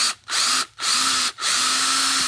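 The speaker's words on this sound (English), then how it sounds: "So you want to drill a pilot hole first." A power drill whines loudly in three bursts, drilling a pilot hole into wood, stopping briefly between them, its motor pitch steady and close.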